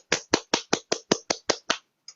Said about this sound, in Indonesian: Jadi apresiasi dari saya adalah hanya memberikan sebuah tepuk tangan.